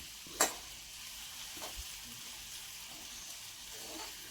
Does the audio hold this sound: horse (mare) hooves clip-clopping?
no